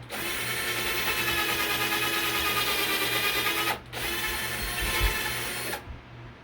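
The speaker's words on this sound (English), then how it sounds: "You get your drill, put your attachment on here, put it in the hole, push." A power drill whines loudly and steadily for several seconds, briefly stops, then spins up again before cutting off abruptly.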